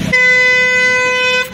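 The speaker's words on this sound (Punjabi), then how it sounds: "ਪਿੱਛੋਂ ਹਾਰਨ ਵੀ ਵੱਜ ਰਹੇ ਨੇ ਬਹੁਤ ਜ਼ਿਆਦਾ" A vehicle horn blasts on a busy market street in Khanna, Punjab: one loud, sustained honk of about a second and a half that cuts off abruptly, with no talking.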